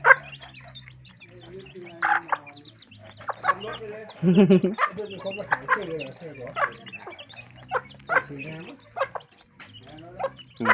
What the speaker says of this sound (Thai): ไก่น้อย